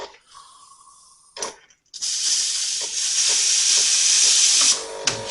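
A Delonghi La Specialista Maestro espresso machine's steam wand purges with a loud, steady hiss lasting several seconds, preceded by brief clicks and a short whir. No voices are heard.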